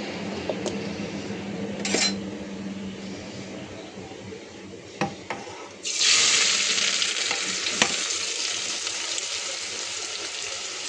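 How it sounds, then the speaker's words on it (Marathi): Chopped onion dropped into hot oil for pav bhaji, with a few clinks and scrapes of a pan at first, then a sudden loud, steady sizzle that stays strong and close to the end; no talking. "आपलं तेल गरम झालं आहे. आता आपण ह्याच्यात पहिला कांदा टाकूया."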